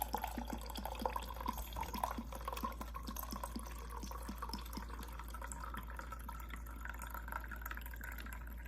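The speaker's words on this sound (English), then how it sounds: "So I'm just putting the rum in the jars." Rum trickles and drips into jars in a quiet, continuous run of small liquid splashes over a low steady hum, with no talking.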